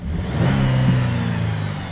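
A 2012 Buick Enclave engine revving up close, a loud mid-pitched surge that climbs then settles back over about two seconds.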